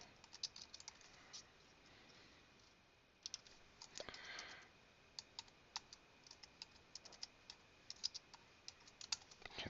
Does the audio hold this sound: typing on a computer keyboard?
yes